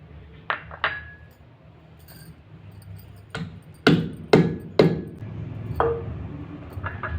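A spoon clinks and knocks against a pot while raw tamarind soup (pachi pulusu) is mixed, giving several sharp, ringing strikes spaced irregularly, close by, with quiet gaps between them and no talking.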